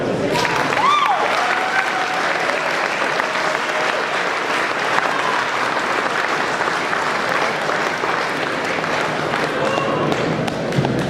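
Sustained, even applause fills a banquet hall as an audience honors a winner at the Cadillac LaSalle Club awards, a dense wash of many hands clapping without a break, with faint voices mixed in.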